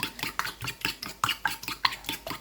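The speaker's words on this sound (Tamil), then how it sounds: "இந்த முட்டையை நல்லா போட்டு போட்டு அட்டிக்கோணும் நல்லா அட்டிக்கோணும்" Three eggs beaten briskly in a bowl, a quick regular run of clinking strokes against the bowl, close and clear with no voices.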